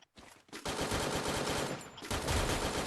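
Sustained automatic gunfire in the game Free Fire, a dense, loud rattle of rapid shots running almost without pause, with a brief dip before it resumes.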